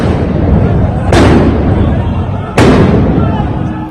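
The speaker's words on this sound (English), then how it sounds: "Israeli police fire stun grenades to disperse Muslim worshippers" Israeli police stun grenades go off in the Al-Aqsa Mosque compound. Two sharp, loud blasts come about a second and a half apart over a noisy crowd background.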